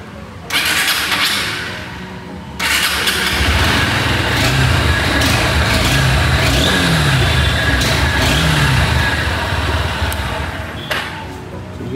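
Honda CB Highness 350 motorcycle engine starts and runs close by, a loud, dense rumble that surges and settles with revving throughout, masked slightly by broadband noise.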